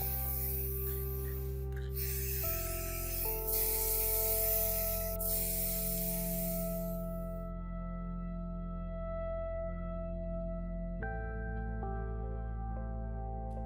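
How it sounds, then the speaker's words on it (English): Spray gun laying a vibrant yellow coat onto a rusted potato cutter under restoration, a steady close hiss for several seconds that then stops, with sustained background music throughout. "I proceed to prime and spray a vibrant yellow coat."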